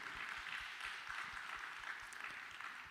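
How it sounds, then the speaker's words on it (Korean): A church congregation at a Sunday Father's Day service applauding the fathers, steady clapping from many hands throughout, moderately distant and even in level. "우리 아버지 되신 분들에게 박수 한번"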